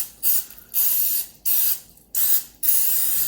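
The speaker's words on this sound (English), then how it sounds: "Let's come on now with our cooking spray again." Five bursts of cooking spray from an aerosol can, each a hissing blast about half a second long, separated by short pauses, close and loud, coating a spatchcocked turkey.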